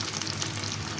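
A spicy snack shallow-frying in a pan over medium-low heat gives off a continuous soft sizzle and crackle of hot oil, close and even, with no talking.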